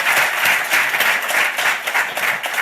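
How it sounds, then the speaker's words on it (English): An audience applauds at the close of a health-equity panel, a loud, close, continuous wash of many hands clapping that holds steady from start to finish. "I hope you'll join me one final round of applause for our sensational seven."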